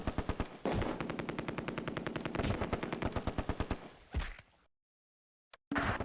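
Machine gun fire in the WWII strategy game Close Combat: A Bridge Too Far, set at Driel during Operation Market Garden: a long rapid burst of evenly spaced shots, a pause and silence, then another brief burst.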